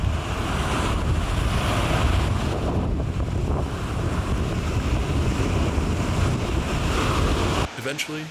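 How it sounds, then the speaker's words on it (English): Sea surf rolling onto a small beach in Honduras, a dense continuous wash of waves heavily buffeted by wind on the microphone, steady and loud until it cuts off near the end. "Eventually, we found our way to the sea."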